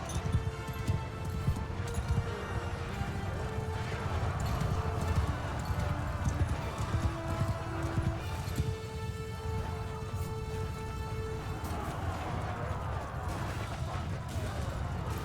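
Cavalry horses in the battle game Mount & Blade II Bannerlord, a dense continuous clatter of many hooves pounding under battle noise, with a long sustained rumble and scattered tonal sounds over the top.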